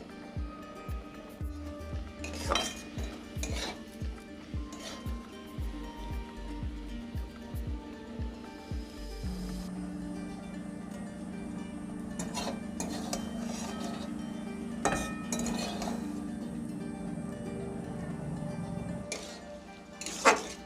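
A spoon stirs chaltar pickle cooking with jaggery in a pan, with soft repeated scrapes and clinks against the metal over a quiet background hiss and a low sizzle, close and unhurried.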